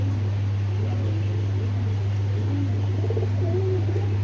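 Pigeons of a tournament flying line, with faint soft cooing and bird calls low in the mix against a steady low mechanical hum, close and continuous with no talking.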